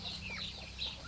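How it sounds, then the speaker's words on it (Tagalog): Rhode Island Red chickens cluck in a backyard coop, a few short close calls over a low, steady background hum. "Ang manok niya ay Rhode Island Red."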